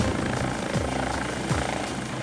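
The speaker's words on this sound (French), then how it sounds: "Le capitaine Benoît décide alors d'utiliser l'hélicoptère." A police helicopter flies over a motorway, its rotor thumping steadily and loudly throughout with no voices.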